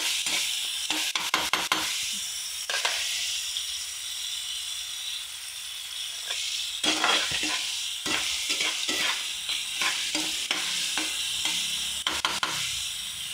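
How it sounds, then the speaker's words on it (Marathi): Onion fries in oil in a pan for a leafy bhaji, with a continuous loud sizzle broken by repeated scraping and clattering of a stirring spoon. "त्याच्यानंतर आपण याच्यामध्ये चांगला लालसर कांदा होईपर्यंत तेलामध्ये भाजून घ्यायचा।"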